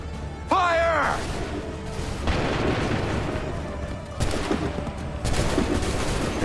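Musket volleys fired by ranks of soldiers in Assassin's Creed 3 boom out in loud, broad blasts at intervals, layered over a continuous battlefield din, with a shouted command at the start.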